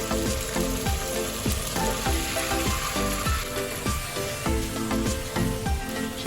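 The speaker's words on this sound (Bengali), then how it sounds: "মাছগুলো ভালো করে নেড়ে চেড়ে মশলার সঙ্গে কষিয়ে নিব।" Gojar fish fry in a thick spiced masala while being stirred for a curry, a loud continuous sizzle with rhythmic scraping strokes of a spatula repeating about every half second.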